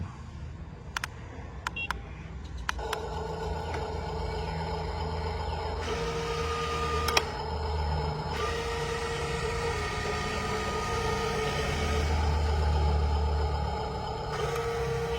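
HUINA 1582 1/20 scale mostly-metal RC dump truck with its electric motor whining steadily, changing pitch as the speed rises and falls, with a few sharp clicks near the start.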